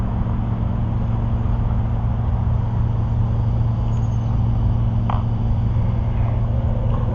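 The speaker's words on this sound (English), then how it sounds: "I hear traffic going by." Steady, constant road traffic noise by a cemetery, a low continuous rumble of passing vehicles at moderate distance, with no talk.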